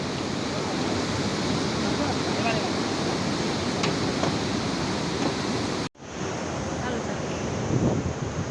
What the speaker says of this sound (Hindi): ये झरना बहता हुआ